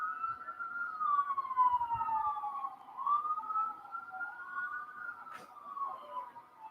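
An ambulance siren wails along a road near a baseball game, a steady rising-and-falling tone at moderate distance, faint and sustained, with a brief sharp knock partway through.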